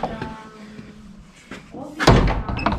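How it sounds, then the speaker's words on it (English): A door in a building entrance is pushed shut with a loud slam and rattle near the end, following a stretch of people chatting. "could you close the door, please?"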